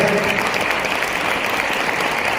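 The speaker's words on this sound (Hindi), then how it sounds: "सभी से एक बार तालियां चाहूंगा हमारे सारे स्टाफ के लिए" Sustained applause from an audience at a Republic Day celebration in Dehradun, Uttarakhand, clapping for the staff; dense, steady and loud throughout with no break.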